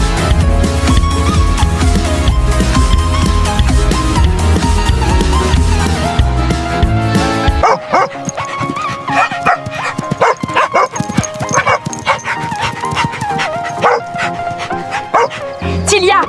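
A female hunting dog barks and yips at a goat in the countryside, sharp bursts mixed with whimpers over a loud, dense background, with a voice talking.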